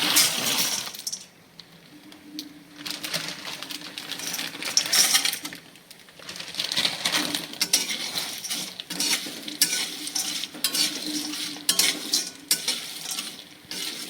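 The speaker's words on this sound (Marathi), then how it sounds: "थोडंसं तेल टाकते मी आता ही मसाला वेलची आणि हिरवी वेलची मी हे भाजून घेते तेलामध्ये" Black and green cardamom pods roast in a little oil for a Maharashtrian spice chutney, a close crackling sizzle with rattling pods and repeated metallic stirring clinks, rising and falling, no talk.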